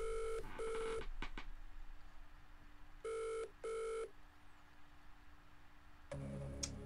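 In a millionaire quiz video game, a phone-a-friend call starts with two pairs of electronic dial-tone beeps, then a quiet pause, followed by a synthetic phone ring at the end; no voices.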